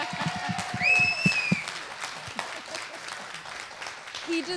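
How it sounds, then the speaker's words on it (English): Audience at a community town hall on teen violence claps for a teenage questioner, a brief burst of applause with a whistle, fading under voices. "He deserves that round of applause."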